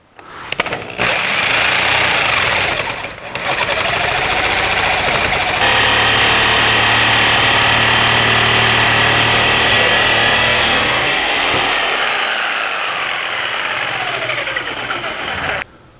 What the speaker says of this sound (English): I'll keep the blade going slow so I don't heat it up, and it should cut it pretty good.